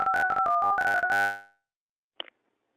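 Telephone line on an outgoing callback, a steady two-tone ring signal holding for about a second and a half before cutting off, followed by a brief faint click or blip.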